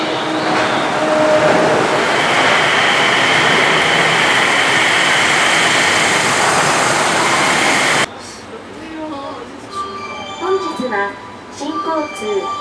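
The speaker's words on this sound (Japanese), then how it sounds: "The train arriving shortly at platform 2 is a return service bound for 新橋" The Yurikamome automated guideway train pulling into a platform on the Toyosu–Shimbashi line, a loud sustained rolling roar with rising hum that stops abruptly, followed by quieter station ambience with chime-like tones.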